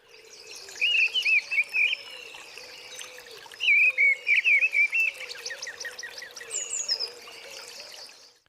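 A mistle thrush mimics a shelduck, followed by a real shelduck calling, heard as bursts of repeated chattering, warbling notes over a constant buzz of insects and frogs, fairly close and clear, with no talking.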